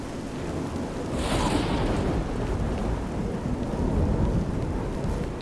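Steady heavy rain pours in The Elder Scrolls IV: Oblivion, with a low rumble of thunder rolling through the wash and no voices.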